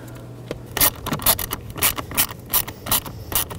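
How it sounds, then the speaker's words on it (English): Blower motor screws on a 2012–2017 Toyota Camry being tightened with a hand ratchet give a series of quick, close mechanical clicks and scrapes in short repeated bursts, with no talking. "I'm going to snug these, give them about an eighth of a turn after they bottom out"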